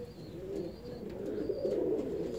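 Saxon swallow fancy pigeons cooing, a soft, continuous low burbling coo from nearby birds with faint higher chirps above it.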